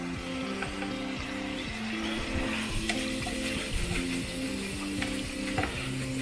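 French fries frying in hot oil make a loud, continuous sizzle and bubbling crackle, steady and close, with occasional clinks of a utensil.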